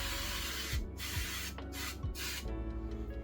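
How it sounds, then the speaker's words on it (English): Hair color touch-up spray aimed at the scalp, three short close hisses of the aerosol separated by brief pauses. "normally your color touch sprays, you're aiming at the roots of the hair, but we're aiming more at the scalp"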